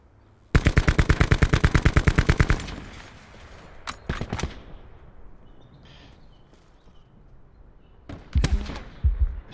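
Automatic gunfire in an online shooter video game, a loud rapid burst of evenly spaced shots lasting about two seconds, followed by scattered single shots and later a couple of heavier blasts.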